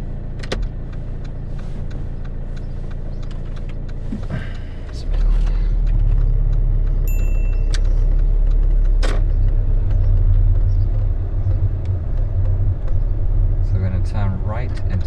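A learner driver's car on a UK road during a mock driving test, a steady engine and road rumble that grows louder partway through as the car moves off, with brief clicks and people talking over it.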